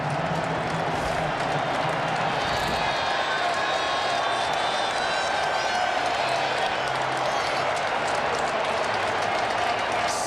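A stadium crowd of about 65,000 cheers after the Lions' game-winning 48-yard field goal in Detroit, a steady, broad roar with applause and whoops that holds throughout, heard from a distance.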